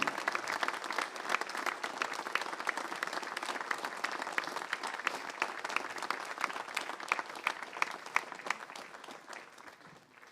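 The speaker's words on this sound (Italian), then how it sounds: "E si scioglie con un applauso l'emozione per questa unità dell'Associazione Nazionale Alpini" Sustained applause rises from the crowd at an Associazione Nazionale Alpini commemoration at Bosco delle Penne Mozze in Cison di Valmarino. Crisp individual claps stand out over steady, moderately distant clapping lasting about ten seconds.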